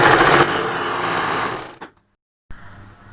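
A sewing machine stitching a saree blouse runs in a close, loud, continuous whir for under two seconds, stops briefly, then gives a short quieter burst; no one speaks.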